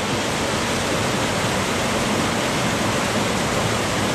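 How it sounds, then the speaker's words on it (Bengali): A small cascade below the main falls of a mountain waterfall in the rainy season: a dense, unbroken rush of water, loud and close, with no voices. "এটা কিন্তু মেন ঝর্ণা না, মেন ঝর্ণাটা আরো উপরে।"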